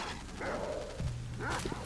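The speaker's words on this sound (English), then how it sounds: "Why are there so many fucking dogs?" Dogs in the video game STALKER: Shadow of Chernobyl bark and yelp nearby in a couple of sharp bursts over a dense in-game background hum.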